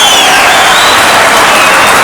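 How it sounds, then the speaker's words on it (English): Debate audience applause and cheering at a 2007 Democratic presidential debate, a dense, steady wash of clapping from a large crowd that fills the whole stretch at high volume, with no speech over it. "We're not going to contain the applause, I'm afraid."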